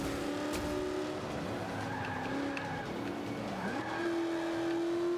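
Racing car engine in the Forza 5 video game, a muscle car revving steadily with rising and falling pitch while tires skid and squeal through corners, loud and continuous with no talking.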